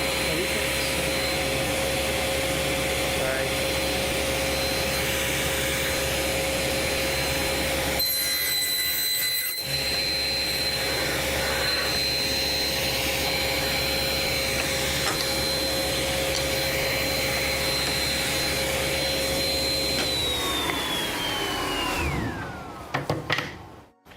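A power saw, likely a table saw set with a miter gauge and a 1-inch stop block, cutting a batch of wood pieces to length: a loud steady motor whine runs throughout with a brief dip, then winds down at the end.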